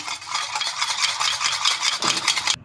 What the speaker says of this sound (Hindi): मैं एक कप में अंडों को तोड़ लूँगी। अब मैं इसे अच्छे से फेंट लूँगी।